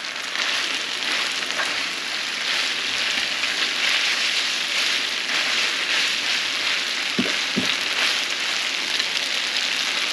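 Potato lo mein noodles fry with garlic in a pan on medium-high heat, a loud, dense, continuous sizzle that stays close and even throughout, with a couple of soft knocks near the end and no talking.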